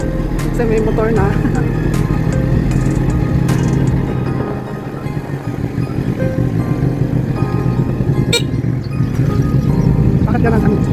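Motorcycle ride on the way to a natural spring, with a steady engine drone and wind rush throughout while people talk over it.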